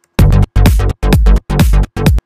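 A short electronic dance music loop made in Logic Pro: five punchy, bass-heavy synth hits with a slightly uneven, swung rhythm, loud and close, ending abruptly.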